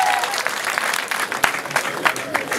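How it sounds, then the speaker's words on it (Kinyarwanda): A crowd at a gathering gives a round of applause, dense and steady clapping with a few sharp claps standing out and voices murmuring underneath. "amashyi menshi cyane"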